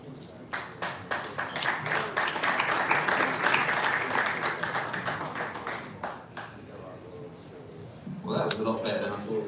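A room of people at a boxing press conference bursts into applause, dense clapping swelling for several seconds and then thinning out, followed by a short second ripple of claps near the end.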